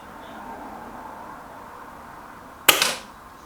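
A Stoeger XM1 Bullpup Bullshark air rifle fires a single pellet, one sharp close crack near the end that follows quiet background noise and decays quickly.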